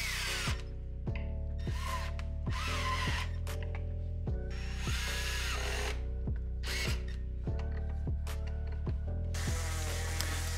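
A drill driver drives screws into wood in repeated short bursts, each whine rising and stopping abruptly, close and loud with brief pauses between them.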